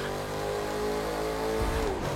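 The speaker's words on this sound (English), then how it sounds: "See, we have to hit the brakes there." Racing video game car engine drones steadily with tire noise, its pitch gliding down near the end as the car brakes hard on a course along the Las Vegas Strip; loud, continuous, no talk.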